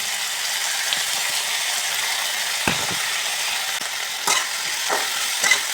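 Green beans and potatoes fry in a pan with onion and garlic: a steady, even sizzle runs throughout, broken by a few sharp scraping strokes as the vegetables are stirred.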